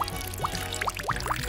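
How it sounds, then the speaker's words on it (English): Dirty water trickles and gurgles into a homemade filter of rocks and colored gravel, with repeated bright bubbling plops over a soft continuous pour, close and quiet. "Lastly, I'll add the dirty water."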